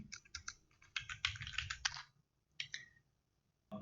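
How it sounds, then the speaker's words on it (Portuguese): Keys clatter on a computer keyboard in a quick burst of clicks, then a short pause and a few more separate keystrokes, close and fairly quiet. "Vejam que eu dei um Enter aqui"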